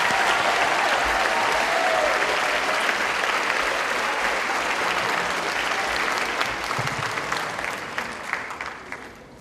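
Big round of applause from an evening audience at a student promotion ceremony, dense and loud clapping sustained for several seconds before gradually tapering off.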